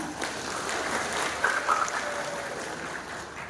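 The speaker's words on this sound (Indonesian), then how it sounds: "Sekali lagi kita beri aplaus yang meriah." An audience at a regency candidates' vision and mission event in South Manokwari applauds, a soft, steady patter of clapping heard from a distance through the whole clip, with a few faint tonal chirps near the middle.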